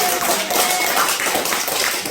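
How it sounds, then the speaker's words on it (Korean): A church revival congregation claps along during a prayer meeting, a broad, continuous patter of many hands filling the room, fairly loud and close, with no talk on top. "If you believe, clap your hands unto Jesus."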